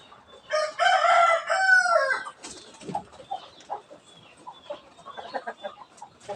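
Chickens on a farm, a rooster crowing loudly near the start, followed by softer scattered clucking from hens around a black hen brooding on a clutch of eggs.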